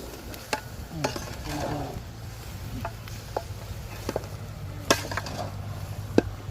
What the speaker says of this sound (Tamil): நல்லா கறியை பரட்டி விட்டுக்கலாம்.